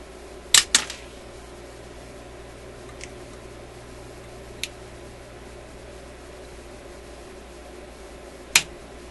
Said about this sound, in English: I'll cut away the excess lead here